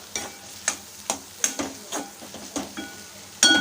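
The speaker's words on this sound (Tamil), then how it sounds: "அதை வந்து உள்ளே சேர்த்துடலாம் சேர்த்து அப்படியே மிக்ஸ் பண்ணி விட்டுப்போம்" A spoon stirs chana dal into an onion and tomato gravy frying in a pan, giving about ten distinct scraping strokes in a steady rhythm over a soft sizzle, close and clear with no talking.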